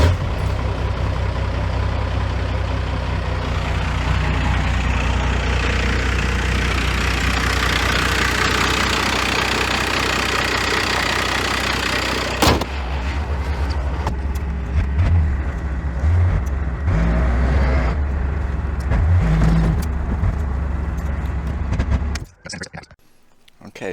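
A 1949 Chrysler 251 engine on a warm day runs with a loud, steady roar, then settles into a lumpy, rhythmic idle with occasional knocks before it shuts off near the end.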